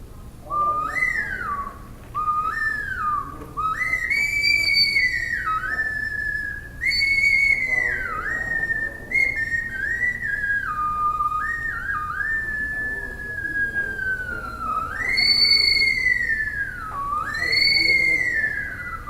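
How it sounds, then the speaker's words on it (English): A whistle made from river cane is blown in a run of bright, clear toots and sliding pitch swoops, the note bending as a finger covers and uncovers the end; close and fairly loud, with no talking. "Now that doesn't sound like much, it's just a whistle, right?"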